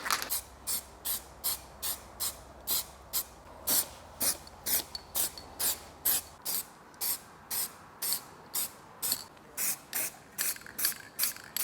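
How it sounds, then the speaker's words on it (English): A spray can puts primer onto a Land Rover Defender part in a rapid series of short, hissing bursts at a steady rhythm, close by and with no talking. "I'm gonna hit it with a bit of primer first."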